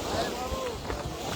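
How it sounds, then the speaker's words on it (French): Strong wind buffeting the microphone at the finish of an outdoor board-riding sports event near water, a constant loud rushing roar with gusty swells throughout, while a commentator talks over it. "il y a du vent, on sent le vent, hein. Très très fort là."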